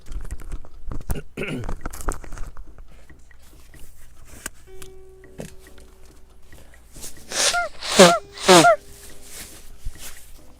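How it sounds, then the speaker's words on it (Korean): A man sneezes twice in quick succession, loud bursts close to the mic after a stretch of quieter background noise; the sneezing runs in his family. "아, 이 재채기는"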